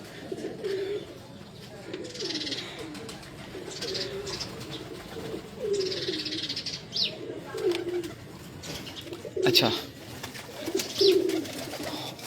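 Crowned pigeons cooing in a home loft: soft, low, repeated coos roughly every second or two, with some chirps and wing rustles, while someone talks quietly over them.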